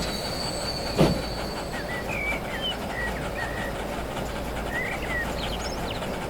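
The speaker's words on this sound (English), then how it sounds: "Just look at the size of that train." Train in the Transport Fever 2 video game, a steady rumbling rail roll with high wheel squeal, a sharp clank near the start, and bird chirps scattered over it.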